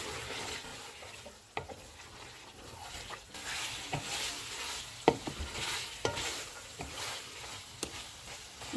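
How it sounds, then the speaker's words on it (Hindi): Meat frying in a pan with garam masala and crushed black pepper for bhuna gosht, a steady sizzle broken by scraping stirs and occasional sharp clinks of a spoon against the pan, close and alone. "इसको 1 से 2 मिनट तक भूनेंगे"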